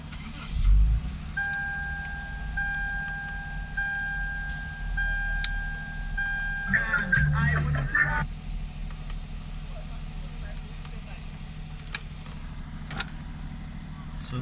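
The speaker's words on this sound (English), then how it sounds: "let me just start the car so you see how it idles right now" A 2007 Lexus IS350 engine idles steadily with a low rumble, and a steady chime sounds over it for several seconds before a brief burst of handling noise.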